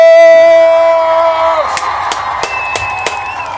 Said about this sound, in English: Give all those Kujichagulia babies a round of applause.